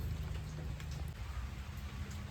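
Steady rain falls onto an outdoor pond used for breeding betta fish, a dense, even patter of drops that runs continuously and fairly quietly, with no voices.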